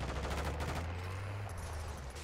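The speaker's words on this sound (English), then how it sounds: "I'm getting shot right here" Gunfire rattles in a Call of Duty MW2 DMZ match, rapid shots crackling in steady bursts at moderate loudness through the whole moment, with no voices over it.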